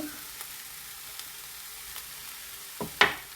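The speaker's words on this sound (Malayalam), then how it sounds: "നന്നായി ഇളക്കി കൊടുക്കുക." Spinach thoran being stirred in a pan after salt goes in, with a faint sizzle and a couple of brief utensil scrapes near the end, close and fairly quiet, no talking.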